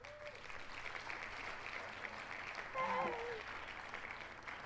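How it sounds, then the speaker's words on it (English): Canned cheer-and-applause effect played during a World of Warcraft podcast, a short burst of steady clapping and crowd cheering at moderate level that swells slightly near the end. "we're going to do the little cheer"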